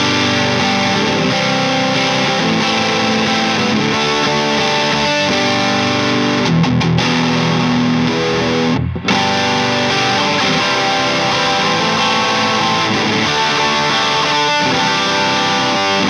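Distorted electric guitar with humbucker pickups tested with coil splitting, playing a sustained riff of thick saturated chords and notes that cut out briefly near the middle before resuming loud and continuous.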